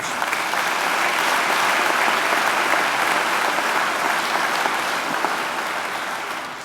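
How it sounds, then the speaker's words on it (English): A large audience at a university graduation ceremony applauds, dense sustained clapping filling the hall evenly before tapering slightly at the end. "I think it deserves another great round of applause."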